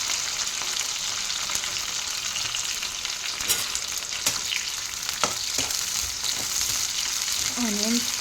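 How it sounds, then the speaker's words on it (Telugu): Onions fry with chillies in a pan for raw tomato pickle, a loud, continuous close-up sizzle with occasional stirring scrapes and a brief voice near the end. "ఒక 1 minute వేగితే చాలు."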